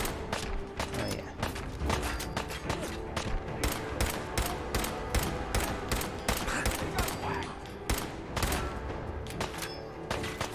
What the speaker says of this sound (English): You're shooting me, you wanker!